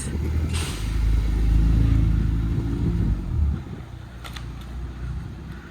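A 2021 Ford Bronco with new rear pads and rotors rolls along a road during a test drive, its low engine rumble and road noise swelling steadily, then easing off as the truck slows.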